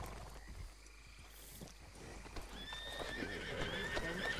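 Horse hooves clopping in a role-play video game, with a horse's whinny among the steps, moderately quiet and mixed with other game sounds and faint ambient noise.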